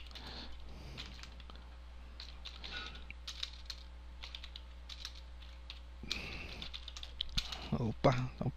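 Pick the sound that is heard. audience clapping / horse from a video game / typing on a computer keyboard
typing on a computer keyboard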